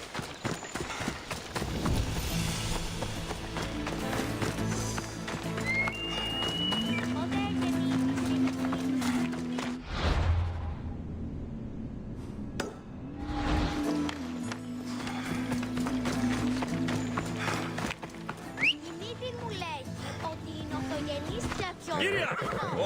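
A horse gallops in Assassin's Creed Odyssey, its hooves drumming in a steady, close clip-clop rhythm through most of the stretch under soft game music, briefly thinning out midway before picking up again.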